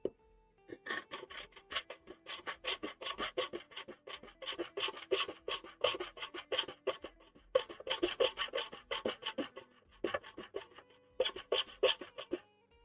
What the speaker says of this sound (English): I like rasps, they're really good